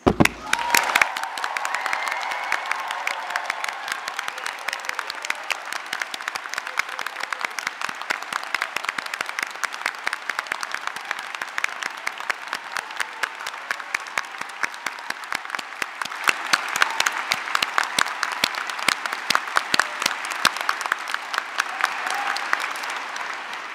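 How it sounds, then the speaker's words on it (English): Sustained applause fills a graduation ceremony hall, with a large crowd clapping steadily and densely for over twenty seconds, at an even level throughout with faint cheering mixed in. "I'd like you all to offer a final round of applause to recognise the incredible achievements that we're celebrating here in the room today."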